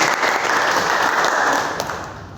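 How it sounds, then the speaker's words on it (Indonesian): Children in a classroom clap together in a dense burst of applause that lasts a couple of seconds and thins slightly toward the end. "tepuk tangan buat kalian"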